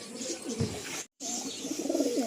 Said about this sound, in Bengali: এই সাহারানপুরি পশ্চিমা লাইনের পায়রা